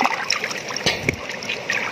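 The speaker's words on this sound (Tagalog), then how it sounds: "para mas lumakas pa yung buga ng tubig" Water gushing strongly from a hand-dug spring, a steady splashing, trickling flow heard up close with a few sharper splashes, with no talk over it.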